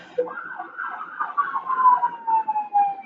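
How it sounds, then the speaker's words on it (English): An ambulance siren wails in the background, its rising and falling tone clear and fairly close, with a voice briefly talking over it. "Just like this ambulance in the background."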